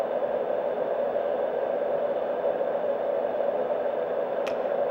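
A Marpac Dohm white noise machine on its low setting gives off a steady, soft, even whooshing hiss, close and unchanging, with a brief faint click near the end.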